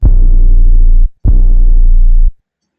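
Two long, booming 808 bass notes in a beat, loud and deep, each sustained about a second and cutting off sharply, with a brief gap between them.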